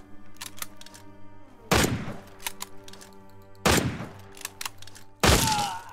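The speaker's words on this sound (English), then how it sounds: "I think this shotgun has some reach on it." A shotgun fires in the survival video game The Front with three loud, sharp blasts, each roughly two seconds apart and each followed by a short decaying tail. Quieter clicks and thuds fill the gaps.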